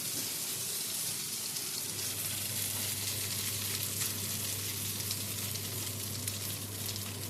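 Potato galettes frying in oil in a pan, giving a steady, dense crackling sizzle that stays constant and close throughout, with a low hum underneath and no talking.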